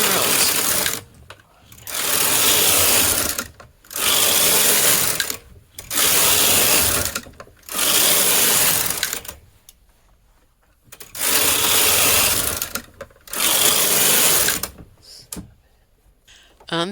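A knitting machine carriage knits rows of a sample, sliding back and forth in seven loud, swishing passes of roughly two seconds each, separated by short pauses.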